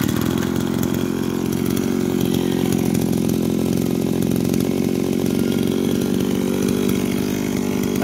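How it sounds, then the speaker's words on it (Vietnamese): A Shindaiwa S25 two-stroke engine runs at a steady, loud, unbroken drone with a raspy buzz, holding an even pitch close by for the whole stretch. "Đây mấy bác nghe tiếng máy nữa này."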